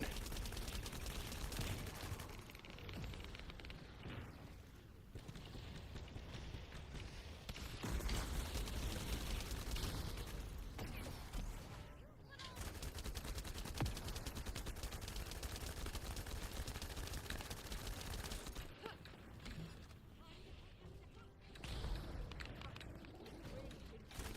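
Gunfire in the shooter game The First Descendant: dense, sustained bursts of automatic fire fill most of the stretch, broken by a few short lulls, all at a fairly low level.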